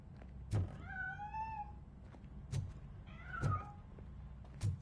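A cat hidden inside a piano in the video game Robocop: Rogue City meows twice, clear drawn-out cries between several dull thumps, close and moderately loud with no talk.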